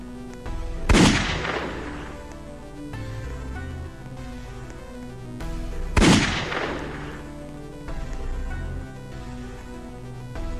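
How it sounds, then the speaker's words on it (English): Two loud gunshots from a gun fired at Mr. P in the Piggy video game, about five seconds apart, each a sharp blast with a decaying tail over steady game background music. "Alright, so I'm about to shoot Mr. P."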